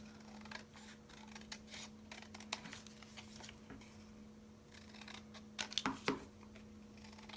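Scissors trim around the edge of an old Christmas card in faint, quick, close snips and soft paper crinkles over a low steady hum, with a brief cluster of louder cuts near the end.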